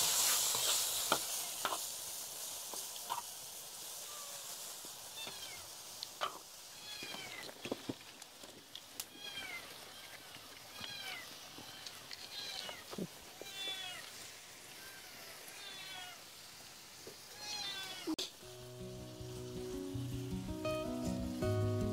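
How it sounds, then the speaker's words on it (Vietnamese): Two hungry kittens meow over and over in thin, high cries at close range, with short gaps between calls and a burst of other noise near the end. "Hai con mèo con này thì chắc là cũng hơi đói rồi cô bác ạ, nó mới kêu thế."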